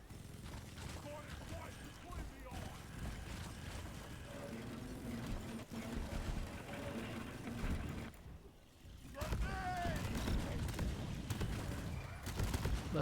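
Gunfire in the sci-fi mining co-op video game Deep Rock Galactic, mixed with game mechanisms and effects, steady and fairly busy throughout, with a short lull near the end before it resumes.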